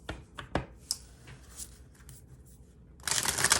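Playing cards are handled with a few sharp taps and flicks, then a dense, close riffle-shuffle burst near the end, with no voices.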